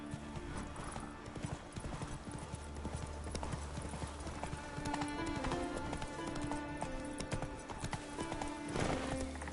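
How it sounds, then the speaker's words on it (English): A horse gallops in The Witcher video game, with rapid rhythmic hoofbeats and a whinny against game background sound. "Whoa there, Roach."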